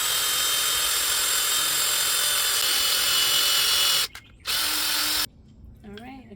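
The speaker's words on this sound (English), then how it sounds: "I'm going to drill a hole" A power drill whines steadily while boring a hole in a broken wooden trellis stick, the motor cutting out briefly, restarting for a short burst, then stopping, followed by a faint voice.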